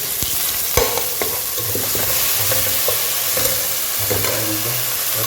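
Ginger garlic paste sizzles in hot oil with browned onions for Tamil Nadu kushka biryani: a steady, close frying hiss with occasional utensil scrapes and clinks as the mixture is stirred.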